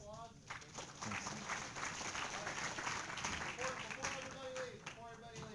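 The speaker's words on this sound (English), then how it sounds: "let's give him a round of applause" Students applaud in an engineering lecture hall, a dense wash of clapping with scattered voices and a few tonal calls mixed in, moderately loud and sustained.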